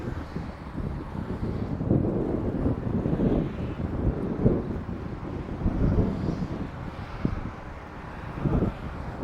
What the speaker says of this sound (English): Can you hear the wind? I bet you can, because I can.